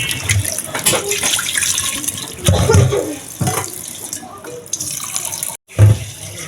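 Fresh fish being washed under running tap water in a home kitchen, a steady splashing flow with louder bursts of water and handling sounds, close to the microphone.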